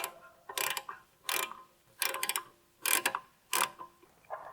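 Ratchet tightening 13 mm brake caliper bolts on a B8.5 Audi S4 during a rear brake job, six quick clicking bursts in an uneven rhythm, close and moderately loud.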